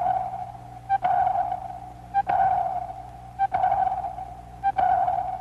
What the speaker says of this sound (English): Sonar, ASDIC as the British call it, sends a sound wave into the depths, searching for a return echo